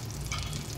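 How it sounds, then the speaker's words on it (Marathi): Raw masala sautéing in a little oil on a hot tava, a steady close sizzle and crackle with soft stirring scrapes, continuous and fairly quiet. "हा कच्चा मसाला परतणार."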